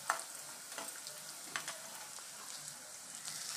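Urad dal frying in a pan with garlic and chana dal while making tomato pickle, giving a steady quiet sizzle with faint crackles and pops throughout, no talking.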